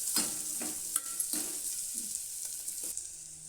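Ginger sizzles softly in hot oil while a spoon scrapes and stirs it in a few separate strokes, close by and fairly quiet with no voices.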